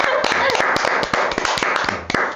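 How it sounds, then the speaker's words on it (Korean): Several people clap sharply and unevenly at close range, a quick scatter of hand claps mixed with laughter and talking voices. "여기서 박수 한번 치고 싶은데."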